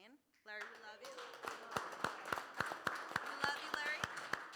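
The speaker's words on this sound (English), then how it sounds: "I want to give another round of applause for Larry the Lion." A round of applause for Larry the Lion at a workshop, a burst of even rhythmic hand claps following a brief spoken voice, close and fairly loud, continuing steadily to the end.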